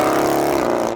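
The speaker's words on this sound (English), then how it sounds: "It's the sound of this car that is just ridiculous." A Lamborghini Urus widebody, fitted with a sports exhaust and a downpipe, sends out a loud, sustained exhaust roar. The engine holds a steady, rumbling note at close range for about a second.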